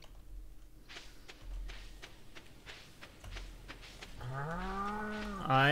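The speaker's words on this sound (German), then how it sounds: "eine Kuh, noch eine Kuh." Cows in the farming game Stardew Valley: soft footstep taps come first, then one long, loud moo that swells near the end and stands alone.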